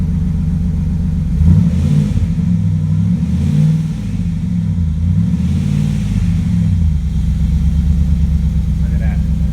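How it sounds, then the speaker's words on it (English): A 2000 Dodge Ram 1500 with a 5.9 V8 and Magnaflow exhaust rumbles loudly up close, its deep exhaust note swelling through a couple of revs before settling back to a steady idle, with voices in the background. "Rev it up a little bit."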